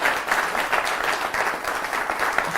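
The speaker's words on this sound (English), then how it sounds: "Give me a round of applause." A lecture audience at a magic lecture breaks into a short burst of steady clapping, dense and fairly close, lasting under three seconds.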